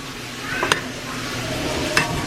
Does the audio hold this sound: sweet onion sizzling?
yes